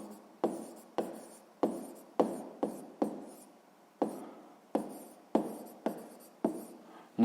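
Pen on paper: a steady series of short, distinct scratching strokes, about a dozen evenly paced taps and scrapes, close and fairly quiet, with no voices.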